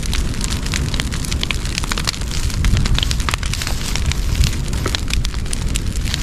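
A brush pile of storm debris burns outdoors with a loud, continuous roar full of dense crackles and sharp pops, heard up close and alone.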